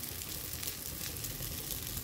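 Flatbread made from jowar flour and semolina roasts on a pan with very little oil after being flipped, giving a faint, even, continuous sizzle.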